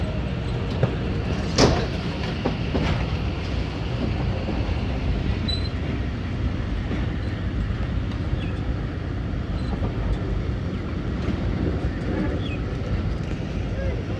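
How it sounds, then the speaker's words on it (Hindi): The Khyber Mail train pulling out of a Pakistani station, with a loud, steady low rumble of rolling carriages and a short sharp burst near the start that may be the departure whistle. "तो 14 डाउन का भी डिपार्चर विसल हो गया।"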